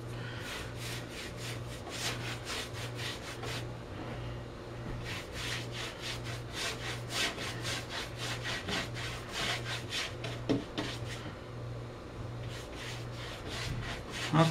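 Finishing powder is rubbed by hand into a painted wood surface with steady, rhythmic back-and-forth strokes, a close, coarse scrubbing sound repeating over a low hum, with no one speaking.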